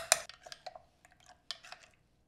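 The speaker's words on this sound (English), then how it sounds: "So right before you add it in, you probably want to give it another little quick stir." Quick stir of a cornstarch and milk mixture for banana pudding, a few light clinks and scrapes of a utensil against a bowl in short bursts, fairly faint and close, with no talking.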